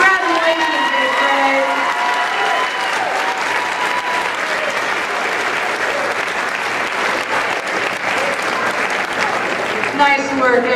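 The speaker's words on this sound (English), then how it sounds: "Let's give them one more big round of applause." Loud, sustained applause with some cheering from an audience at an 8th grade promotion ceremony, while a voice talks at the start and end.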